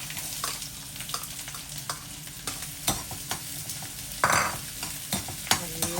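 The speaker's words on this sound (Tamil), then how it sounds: "ஆயிலில் போட்டு நல்லா பொன்னிறமாக வர மாதிரி நல்லா வதக்கிக்க போகிறோம்" Onions sauté in hot oil in a pan for a Tamil garlic and curry leaf vatha kuzhambu, giving a continuous close sizzle broken by frequent stirring clicks and scrapes of a spoon against the pan.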